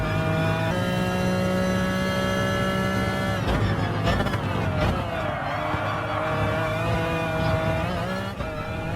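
Gulf McLaren F1 GTR race car racing at the Red Bull Ring in Gran Turismo Sport, its engine holding a loud, steady harmonic drone, dipping and re-climbing through gear changes amid other cars, with no talk.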